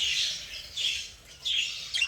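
Newly hatched budgerigar chicks, about a day old, call in three raspy, high-pitched squawking bursts, close and fairly loud, with short pauses between them.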